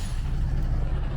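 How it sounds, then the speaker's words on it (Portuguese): A truck pulls up on a roadside near the Russian border, its heavy low engine rumble steady and close, with a brief airy release suggesting the brakes over the idling drone. "Parou um caminhão que nos leve em direção à fronteira com a Rússia"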